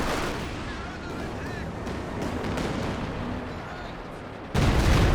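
A B4 howitzer fires in Company of Heroes 2, the loud artillery boom erupting near the end over constant dense battle rumble, with a voice talking throughout.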